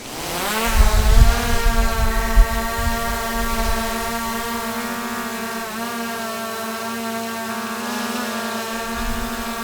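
A DJI Air 2S drone on stock propellers hovers nearby with a steady, loud, buzzing whine rich in harmonics, rising sharply as the motors spin up and then holding a constant pitch.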